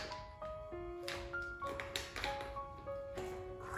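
The lid of a humidifier clicks shut with several light taps and knocks over a steady ringing tonal background, and nobody speaks.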